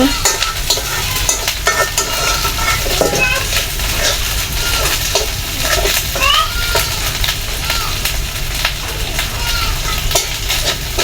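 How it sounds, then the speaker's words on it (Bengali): Spice paste frying in a kadai while being stirred and mixed, giving a steady loud sizzle with scraping strokes throughout, and a faint voice now and then. "এটা ভালোভাবে মিক্স করে নেওয়া হচ্ছে ভালো করে ভেজে নেওয়া হচ্ছে"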